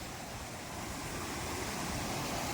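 Water gushes out strongly in a steady, loud, broadband rush, continuous and close throughout, where fish are being caught, with no voices over it.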